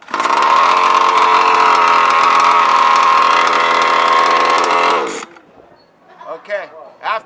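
A methanol-tuned, carbureted racing engine fires after a pull start and runs with a loud, harsh, buzzing roar for about five seconds, then cuts out. A person talks briefly afterward.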